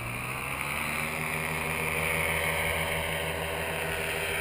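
Paramotor engine at a French aerodrome revving steadily under full throttle, a loud continuous droning buzz with strong propeller harmonics, no voices over it.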